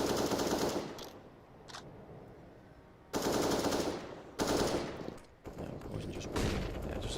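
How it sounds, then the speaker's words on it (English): Counter-Strike gunfire during a BLAST Premier match rattles in long automatic bursts with brief gaps, loud and dense, under a faint caster voice. "Bullets being thrown down the ramp almost."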